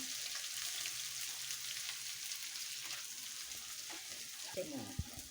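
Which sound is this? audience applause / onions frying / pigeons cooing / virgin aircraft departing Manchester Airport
onions frying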